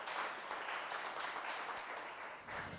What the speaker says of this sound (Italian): Un applauso anche per te e grazie.